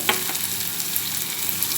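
Onions and tomatoes sizzle and crackle steadily in a hot pan, a continuous close frying hiss with small popping spatters.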